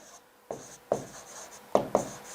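Chalk or marker strokes on a board in a classroom-style lesson, a few quiet taps and scratches spaced irregularly, close and faint with no talk.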